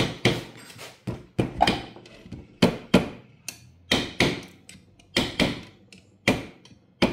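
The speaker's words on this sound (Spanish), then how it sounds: "Martillito de bomba." A small hammer taps repeatedly on metal while fitting new seals on a Bajaj Boxer 150cc motorcycle, sharp close strikes in an uneven rhythm, sometimes in quick pairs, with brief pauses between.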